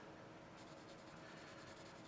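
A General's woodless 6B pencil drags across paper in a soft, continuous scratchy rub, close and quiet, with no other sound around it.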